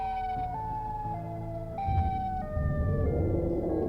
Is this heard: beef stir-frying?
no